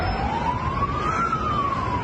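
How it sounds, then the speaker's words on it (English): An emergency vehicle siren wails continuously at a train station, one long rising and falling tone over a dense rumble of traffic, loud and fairly close. "ambulances and fire engines raced to Novi Sad train station."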